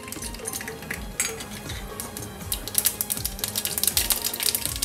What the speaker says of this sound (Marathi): राई व्यवस्थित तडतडल्यावर